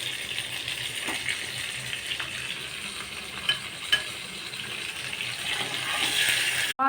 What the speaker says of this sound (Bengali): 4 টেবিল স্পুন সর্ষের তেল ভালো করে গরম করে একে একে মাছগুলো ভেজে নেব।